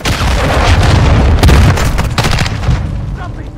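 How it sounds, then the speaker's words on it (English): A cruise missile explodes in Call of Duty Modern Warfare II multiplayer, making a loud, sustained booming blast with rumbling debris that fades over a few seconds, while a game voice speaks over it. "Hostile cruise missile incoming."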